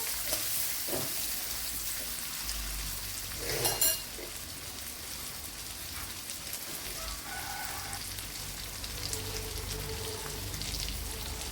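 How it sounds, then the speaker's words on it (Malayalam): Onion, ginger and green chilli sizzling in a pan, a steady soft crackle that runs on without pause, faint and even, with a brief clatter partway through. "ഇതിനെ ഇനി ഒന്ന് നല്ലതുപോലെ ഒന്ന് മൂപ്പിച്ചെടുക്കുക"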